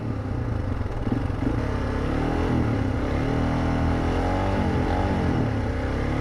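A motorcycle with a slipping clutch that will not shift gear, engine revving and surging in uneven waves while the bike barely gains speed, loud and continuous up close with mechanical clatter underneath.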